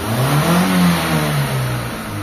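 A Mitsubishi Lancer "pizza pie" MX with a freshly tuned carburetor runs steadily close by, holding a low, even idle that swells slightly and then settles again, with no voices over it.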